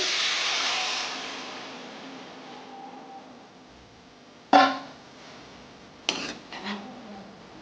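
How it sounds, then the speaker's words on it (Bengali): Milk poured into a pan of cooked-down egg curry masala with cauliflower hisses loudly at first and fades to a soft simmer, followed by a few sharp knocks of utensils against the pan. "এইবার আমি দুধটা দিয়ে দিলাম"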